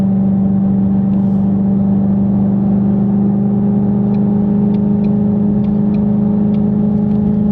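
2019 Shelby GT350 800R twin-turbo car cruising under light throttle, a steady low engine drone with a constant hum from the cabin and faint ticks, no talk.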